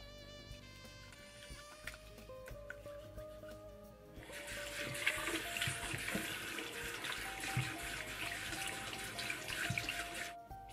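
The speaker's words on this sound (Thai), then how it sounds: "ที่สำคัญอย่าลืมใช้สบู่ด้วยนะคะ ฟอกทั้งหน้ามือและหลังมือ รวมถึงตามซอกเล็บด้วยค่ะ" Tap water runs steadily into a sink as hands are scrubbed with soap, a close hissing flow that starts after a few quiet seconds and continues to the end.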